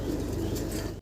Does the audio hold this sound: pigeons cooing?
yes